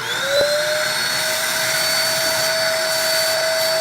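Shop-style ash vacuum fitted with a Dust Daddy attachment, running alone with a steady, loud high-pitched whine and a rising tone at switch-on.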